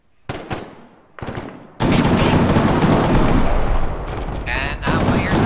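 Video game gunfire: two sharp, loud shots a moment apart, then a sustained, heavy roar of rapid firing and blasts that stays loud to the end.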